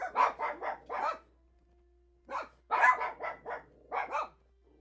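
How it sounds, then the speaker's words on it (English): Three dogs bark indoors in rapid bursts, a cluster of sharp barks, a short pause, then another volley, close and loud with no speech. "They hear a dog barking outside."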